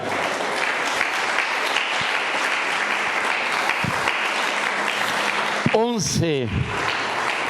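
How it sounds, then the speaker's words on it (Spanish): Church congregation applauds steadily in a broad wash of clapping, with a voice rising over it and a brief sweeping tonal flourish near the end. "Denle aplauso al Eterno"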